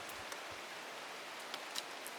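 Steady rain falls in the video game Strange Horticulture, a constant soft hiss with occasional faint drips, fairly quiet and with no voices or other sounds.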